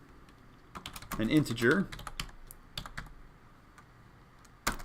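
Typing on a computer keyboard, with a run of quick, clattering keystrokes followed by sparser single taps and a sharp final click, close by, as someone speaks briefly over it.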